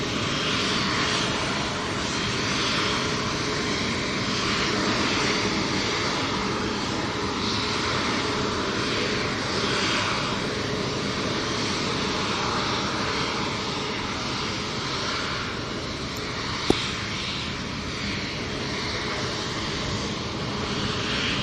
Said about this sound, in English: Virgin Atlantic is crossing the runway.